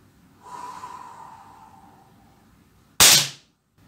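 Air rifle fired once at a target in an evening shooting session: a single sharp, close crack-like burst after a few seconds of quiet, soft breathing-like hiss, then silence.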